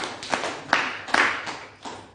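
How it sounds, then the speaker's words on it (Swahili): A church congregation claps for Jesus during a sermon, giving a few scattered, uneven claps and taps that rise and fade over a couple of seconds. "Pigia Yesu makofi"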